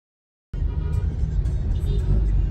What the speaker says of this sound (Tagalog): Grabe, traffic.